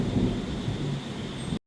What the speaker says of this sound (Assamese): ইমানেই বতৰ বেয়া কৰিছে পূৰা গাজিছে একদম